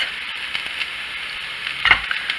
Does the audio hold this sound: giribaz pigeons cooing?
no